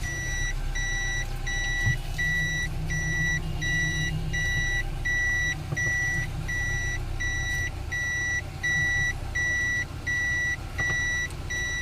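A car's reversing alarm repeats a steady electronic beep at an even rhythm after the shift into reverse gear during parking, clear and continuous over a low engine hum, with no talking.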